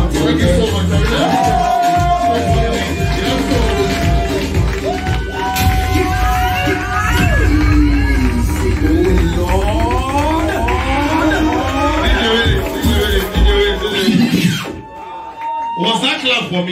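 A crowd at an anniversary party in a lounge claps, cheers and whoops loudly and continuously for a live performer, while music with tonal synth lines plays underneath and festive noise fills the room.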